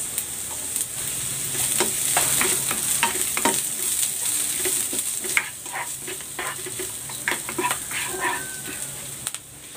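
Garlic and onion sautéing in a pan for a Filipino fish dish: a steady close sizzle with frequent scraping stirs of a utensil, and a dog barking faintly in the background.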